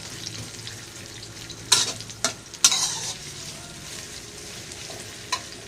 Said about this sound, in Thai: ผัดให้ หอมใหญ่ค่อนข้างเกือบสุกใสนะครับ